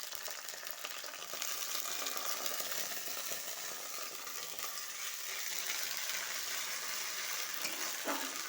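Chopped tomato and ginger paste fry for a fish curry with a dense, steady sizzle that holds fairly constant throughout, plus a faint scrape near the end.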